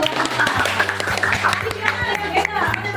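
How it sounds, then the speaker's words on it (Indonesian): Students in an Indonesian classroom clap together in a quick, patterned rhythm of sharp claps while voices talk over it nearby. "Tepuk tangan dulu."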